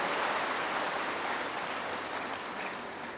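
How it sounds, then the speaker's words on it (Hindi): A large audience at a Brahma Kumaris evening plenary session applauds steadily, a dense, even wash of many hands clapping at once that holds loud throughout and eases only slightly toward the end. "हम सब जोर से ताली बजा"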